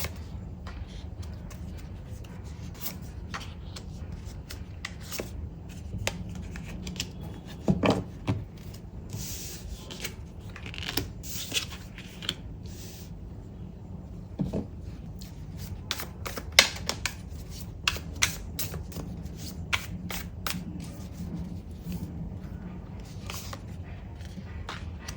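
Tarot cards shuffled for a reading, giving soft papery rustles and scattered light taps and flicks at close range, quiet and irregular over a low background hum.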